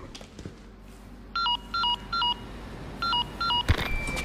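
An in-game phone call in Resident Evil 4 Remake: two bursts of three electronic ringing beeps separated by a pause, clear over a low ambient game background, with no talking.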